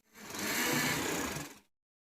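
A sewing machine runs a single steady burst of stitching for about a second and a half along the length of a trouser leg for a shalwar, loud and close with no talking.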